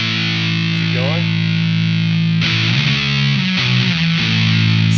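An electric guitar runs through a Keeley Octa Psi octave fuzz pedal with the fuzz set high, producing a thick, saturated sustained tone followed by a few harsh, distorted strums, loud and up close.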